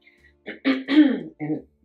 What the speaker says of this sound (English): I'm having to clear my throat